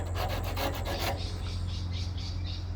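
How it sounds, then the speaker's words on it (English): Coarse 80 grit sandpaper is rubbed by hand across a car's body surface to prepare it for wrapping. Close, rhythmic rasping strokes repeat in a steady back-and-forth pattern, with no voices. "we're just using a bit of 80 grit to get us started"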